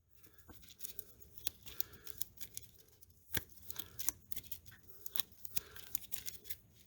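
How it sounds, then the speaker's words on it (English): A board-game deck of cards is shuffled up close. Quiet, rapid papery riffles and crisp snaps recur irregularly across several seconds, and no one speaks. "We're going to shuffle them into the starting cards."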